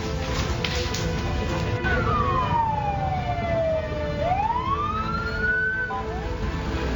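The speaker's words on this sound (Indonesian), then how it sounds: "Lima unit mobil pemadam kebakaran diterjunkan untuk padamkan api." Sirens of several fire engines rushing to a burning district office building in Bekasi, loud and close, with a wailing tone sweeping down then up over steady road and engine noise.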